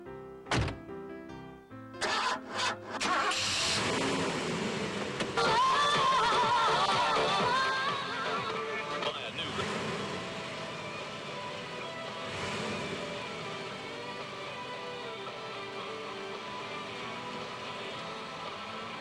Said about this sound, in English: Let's go for a ride in the car.